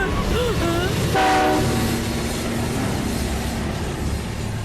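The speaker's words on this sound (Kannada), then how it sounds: "ಅಲ್ಲಿ ನೋಡು ನಮ್ ಟ್ರೈನ್" A train in an animated story passes with a loud rumbling rush and a brief horn blast near the start, with wheel clatter running steadily underneath.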